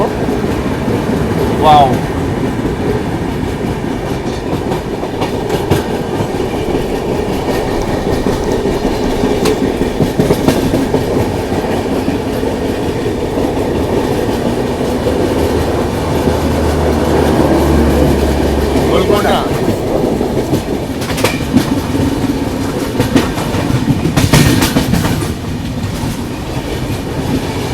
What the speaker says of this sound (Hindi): ये कोई इंटरसिटी ट्रेन लग रही है